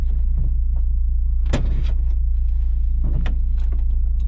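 Inside a moving Volkswagen Kombi 50 Anos, a loud, constant low drone fills the cabin, broken by a few scattered knocks and rattles.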